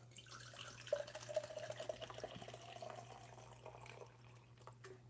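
Arizona grapeade and Coke are poured into a cup, making a faint, steady trickle and gurgle over a low background hum that tapers off toward the end.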